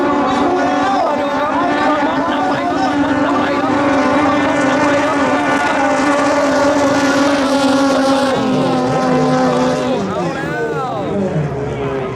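Racing boats roar through a 5K open race final as one loud, sustained engine whine. The pitch holds steady, then drops and wavers near the end, with a voice talking over it.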